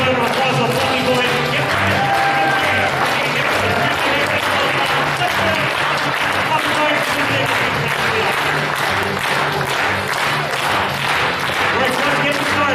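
Sustained applause and cheering from a convention crowd at a furry Family Feud game show, steady and loud throughout with voices mixed into the clapping.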